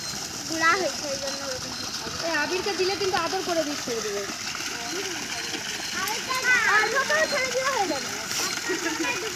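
A large zoo animal bathes and splashes in water nearby, a steady watery wash running under frequent chatter from adults and children close by.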